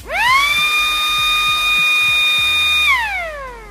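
Electronic motor siren alarm for a three-phase power outage, sounding on loss of one or more phases: a loud steady whine that rises quickly, holds for nearly three seconds, then winds down, with light clicking underneath.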